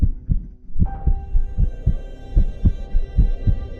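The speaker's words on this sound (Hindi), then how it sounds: "उसका दिल तेजी से धड़कने लगता है" A fast, steady heartbeat effect thumps in a regular low double-pulse over a droning background hum, used as a tension cue in an animated Hindi horror story.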